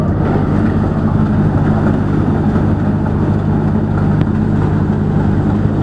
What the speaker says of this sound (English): go ahead and turn the auger on